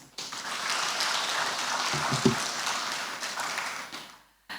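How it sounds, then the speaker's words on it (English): Audience applause at a formal flood outlook briefing, a broad steady wash of clapping from many hands that swells, holds and then cuts off abruptly. "another round of applause for NIHSA"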